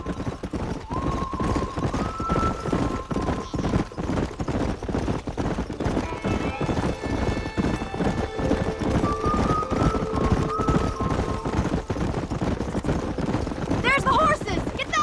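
Horses in Red Dead Redemption clip-clop in a steady galloping rhythm, with whinny-like tones and game music, while someone talks over them throughout.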